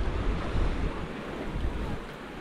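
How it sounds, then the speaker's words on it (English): Ocean waves roll in and break against rocks along a shore, a steady broadband wash with gentle surges, mixed with wind buffeting, moderately quiet and with no voices. "the waves are starting to come in"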